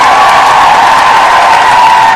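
An audience greets guests welcomed onto a stage with loud, steady applause, a dense unbroken roar of many hands clapping close by with no voices rising above it.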